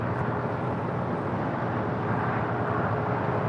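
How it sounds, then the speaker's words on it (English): A Turkish Airlines Boeing 787-9 Dreamliner arriving from Istanbul: a steady, broad engine roar that holds loud and even throughout, with no voices. "Turkish Airlines, Flight 179 coming in from Istanbul, the 787-9 Dreamliner"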